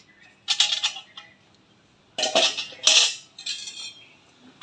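An antique tin-coated metal oil container, about two litres and heavy, is handled in bursts of bright metallic clinks and rattles, with quiet gaps between the clusters of contact.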